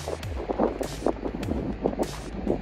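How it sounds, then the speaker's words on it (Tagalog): Gusty wind on a coastal mussel-gathering spot buffeting the microphone in irregular rumbling bursts, steady and fairly close throughout. "Ayan, medyo mahangin."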